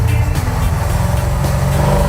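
A junkyard Chevrolet car back on the road for the first time in about five years gives off a steady, close, low engine drone while driving.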